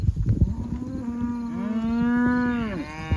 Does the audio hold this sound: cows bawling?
yes